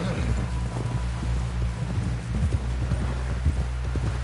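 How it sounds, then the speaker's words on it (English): Horse hooves clip-clop at an even walking pace over a steady low ambient drone, in the video game Red Dead Redemption 2. "Someone help John down off this horse"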